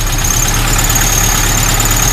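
A Suzuki SJ413 engine running on a Toyota carburetor idles steadily and loudly at close range, a constant low rumble with a thin high whine over it and no voices.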